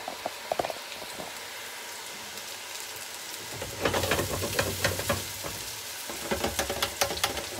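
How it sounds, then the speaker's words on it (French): Chayote keto fries deep-frying in hot oil: a soft bubbling that swells into a dense, crackling sizzle partway through, with irregular pops and spatters close by. "Allez, on va repartir à faire frire nos frites."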